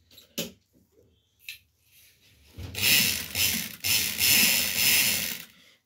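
Sewing machine running a second line of stitching along a fabric border, starting after a few soft clicks and handling noises and then whirring steadily and loudly for about three seconds.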